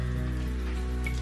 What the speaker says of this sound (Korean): 가을비가 연 이틀째 하염없이 내린다.